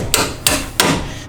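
Three sharp metallic hammer strikes on a coilover bolt of an NA Miata, evenly spaced and close by, each ringing briefly before the next.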